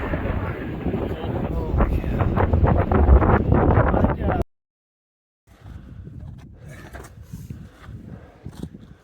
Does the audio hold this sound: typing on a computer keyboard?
no